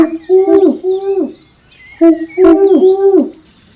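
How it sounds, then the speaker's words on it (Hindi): A cartoon pigeon coos in two phrases of low, wobbling, hooting calls, each made of several swelling notes, clear and close with no talk. "कबूतर ने अपनी गुटरगों से सबको हंसाया"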